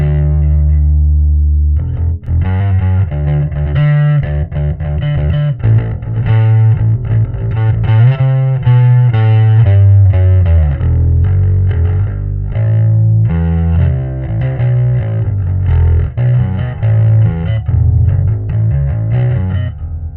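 A bass guitar is played through a Kemper profiling amp's distortion profile, a Choptones bass tone, heard as loud, gritty riffs and sustained notes with no talk over them.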